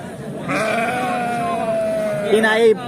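A sheep at a livestock market gives a long, wavering bleat, followed near the end by a shorter, sharper cry, close and clear over a murmur of market voices.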